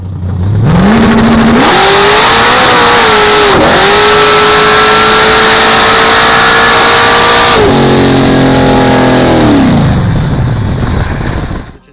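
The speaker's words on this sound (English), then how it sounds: "First pass, it kicked the tires, so he took some power out of it to make it so it would go down, and it started tire shaking." A drag race car at the racetrack launches with a loud, close engine roar that climbs in pitch, holds high while the tires shake, then revs drop away and fade near the end.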